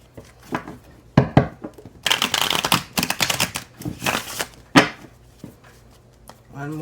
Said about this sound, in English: Here's some shuffling ASMR for you guys.